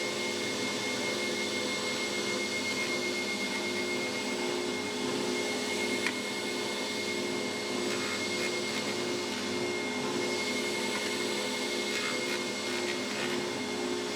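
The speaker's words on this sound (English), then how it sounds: "I'll pass it through the thicknesser" A wooden end-grain cutting board is fed through a planer thicknesser in a workshop, giving a loud, continuous, even whine and roar for the full length without pause.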